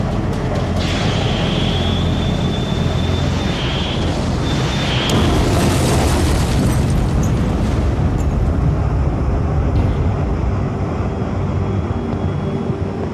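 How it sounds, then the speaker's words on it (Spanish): A heavy, continuous roar of a mid-air explosion in a dramatized Falklands War naval battle around HMS Coventry, with a thin high whine early on and a louder burst swelling near the middle before rumbling on. "Explosión aérea 2002."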